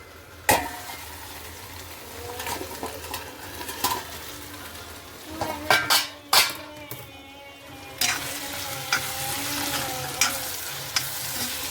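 A dry brinjal and potato vegetable dish with tomato, onion, garlic and coconut cooks in a pan, with a steady sizzle under irregular spatula scrapes and clinks against the pan. No one speaks.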